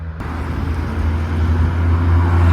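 A Mazda MX-5 pulling away from a Japanese car meet, a loud close engine drone that builds steadily over a couple of seconds, with no one talking.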